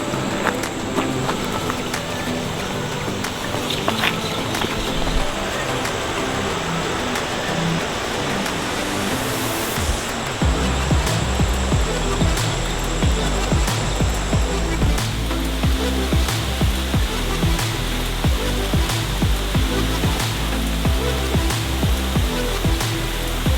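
Waterfall near a village in Sumatra, Indonesia: a steady, dense rush of falling water fills the whole clip, loud and close, with a thicker low roar joining midway and holding to the end; no voices.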